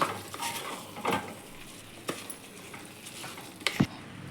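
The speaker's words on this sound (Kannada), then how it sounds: "ಅಕ್ಕಿ ಹಾಕೋತಾ ಇದ್ದೀನಿ ಅಕ್ಕಿ ಹಾಕಾದ್ಮೇಲೆ ಒಂದ್ಸತಿ ಚೆನ್ನಾಗಿ ಮಿಕ್ಸ್ ಮಾಡ್ತಾ ಇದ್ದೀನಿ" Rice scraped and stirred around a pot of vegetable biryani masala, a handful of distinct spoon strokes and clinks against the metal over a faint background sizzle, close and fairly quiet.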